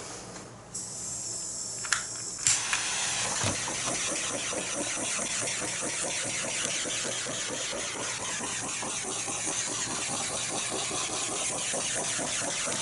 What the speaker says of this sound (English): I have to put some butane on my torch. So I am torching.